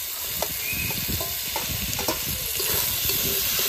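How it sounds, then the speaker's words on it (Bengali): Garlic paste, onion paste, green chillies and chopped tomato fry in a pan with a steady, close hiss, broken by a few soft stirring clicks, with no talking. "ভালো করে এখন ভেজে নেব।"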